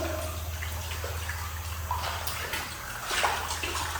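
Water splashes and churns in a continuous, close wash with a few brighter sloshes, steady and fairly loud with no one speaking.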